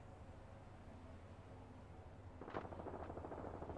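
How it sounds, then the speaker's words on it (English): Distant, faint bursts of enemy gunfire in an Apex Legends ranked arenas match, starting about midway through as a rapid volley over low background rumble. "The enemies are shooting at me."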